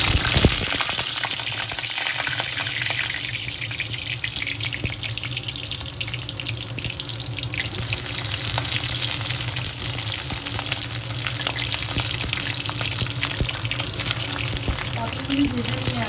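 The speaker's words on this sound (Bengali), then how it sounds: "পটলগুলি ভেজে নেব" Pointed gourd pieces frying in hot mustard oil in a kadai, a loud, steady close-up sizzle with a sharp burst at the start as they hit the oil, continuing unbroken throughout.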